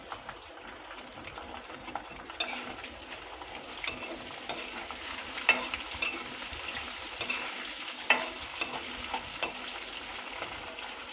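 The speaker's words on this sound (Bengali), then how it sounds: "এবার এগুলোকে সব ভালো করে একটু ভেজে নেব।" Grated ginger and green chilli fry in a pan with a soft, continuous sizzle, joined by occasional spoon scrapes and clinks as the mix is stirred, with no talk.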